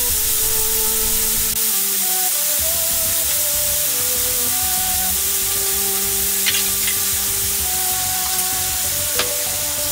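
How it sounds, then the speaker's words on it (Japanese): Meat stir-fries in a pan, a loud continuous hiss and sizzle with occasional faint clinks of a utensil, close and steady, with no talk. "このまま肉の赤いところが見えなくなるまで炒めるだけです。"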